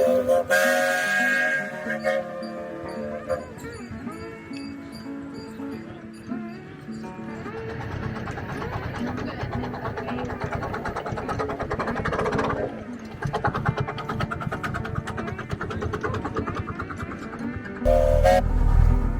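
Connected miniature trains on a celebratory joyride at a railfest, with whistle toots and horn blasts over steady rolling rumble and a busy crowd, ending in a louder low rush.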